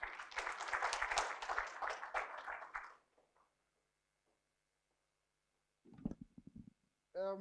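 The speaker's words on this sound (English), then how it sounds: "Can we give our adjudication committee another round of applause" An audience at a construction and engineering supplier day applauds, a few seconds of faint, dense clapping that fades into near silence before brief sounds and a voice return.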